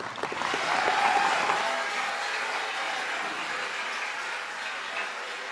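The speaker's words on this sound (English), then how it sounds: "Can we just give them another round of applause?" Graduation ceremony crowd at Waterford Kamhlaba, class of 2023, giving a round of applause: a dense wash of clapping from a large audience that swells early, then holds steady at a moderate distance.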